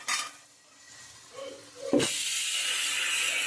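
Pressure cooker on a stove cooking white rice: a sudden loud whistle of escaping steam bursts out and settles into a steady, continuous hiss close by.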